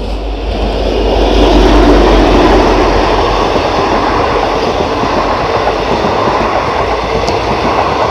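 An N-class locomotive hauls a train past at close range, a loud, steady rumble of engine and rolling wagons that swells slightly and holds throughout, with no voices.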